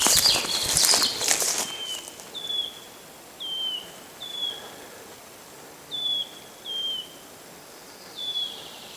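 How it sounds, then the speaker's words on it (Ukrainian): Two birds trade short, thin whistled calls back and forth outdoors in an open wild landscape, six clear notes at steady intervals after a brief burst of louder rustling, faint and somewhat distant. "Дві пташки розмовляють одне з одною."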